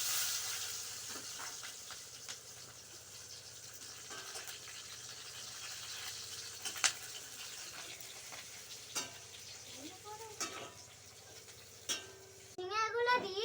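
Onion and chili sizzle and fry in hot oil in a home kitchen, a soft continuous hiss broken by occasional scrapes and knocks of stirring, fairly quiet and close, with a few faint sounds near the end.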